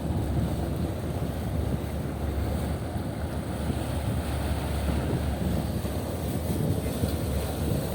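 The KMP Express Bahari 8B fast ferry pulls away from the dock after raising anchor, giving a steady, loud engine rumble mixed with rushing water and wind buffeting the microphone, continuous throughout with no clear speech.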